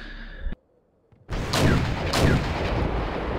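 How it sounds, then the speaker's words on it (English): Mortar fire in the Wargame: European Escalation video game: a short tone cuts to brief silence, then heavy booming launches and rumbling explosions roll in, loud and close, overlapping into a sustained thunderous barrage. "as soon as I start firing my mortars"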